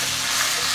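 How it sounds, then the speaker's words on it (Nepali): Taro root and taro leaf curry sizzles steadily in a pan as turmeric is stirred in. The frying hiss is close and continuous for under a second, with no voices. "अब बेसार राखेर हामीले यसलाई फेरि चलाउँ"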